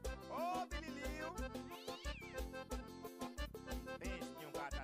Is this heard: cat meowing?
yes